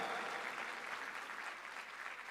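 Congregation at a church service applauds in a steady, dense wash of clapping, faint and distant, with no voice over it.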